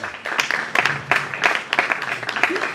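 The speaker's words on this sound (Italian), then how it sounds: "l'accogliamo con un applauso" An audience at an Italian cinema event applauds a guest coming on stage, individual claps audible in a moderately dense, uneven patter that stays close and steady throughout.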